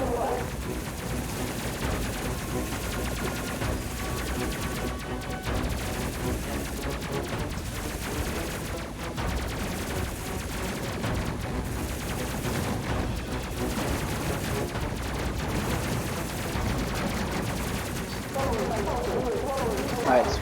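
An enemy gunship fires on the ship in the space game Space Crew, a continuous, dense barrage of rapid shots running steadily throughout, with a voice talking over it.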